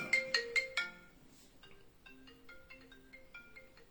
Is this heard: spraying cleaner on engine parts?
no